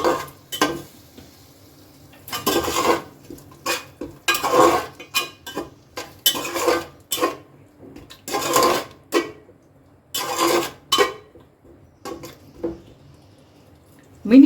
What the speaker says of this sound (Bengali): খুব ভালো করে এটাকে মিশিয়ে নেব